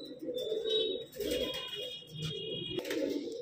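Pure-bloodline pigeons, including a jet-black hen, coo in low soft repeated calls up close, with a high steady tone and faint background noise.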